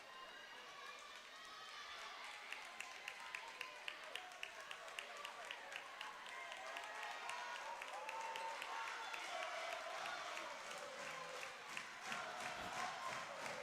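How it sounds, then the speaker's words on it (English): A crowd in a gym at a state high school volleyball match cheers and claps in a sustained roar, with rhythmic stomping or clapping beats running through it and a commentator talking over the noise. "Wynne's crowd's not going to stop."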